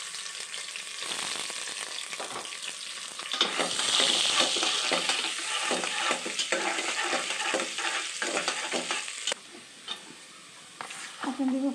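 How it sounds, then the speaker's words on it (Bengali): Chopped onion and spices fry for chicken khichuri, with a steady broadband sizzle throughout, intensifying when the onion goes in and carrying on with stirring scrapes. Near and loud, with a brief dip near the end. "দিতেছি পেঁয়াজ কুচি"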